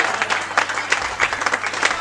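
An audience claps at a Hindi comic poetry recital (hasya kavi sammelan), a dense and steady burst of applause filling the whole moment, loud and close.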